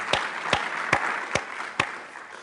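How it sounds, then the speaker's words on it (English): An audience gives a round of applause, heard as five evenly spaced, sharp claps about half a second apart, moderately loud over a faint room background. "I would like to acknowledge his hard work here with applause"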